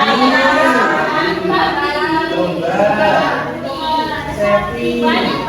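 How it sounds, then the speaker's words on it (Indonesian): A cow moos in a farm livestock setting, drawn-out lowing calls running through the clip over a steady background din, with no clear voices. "Sapi."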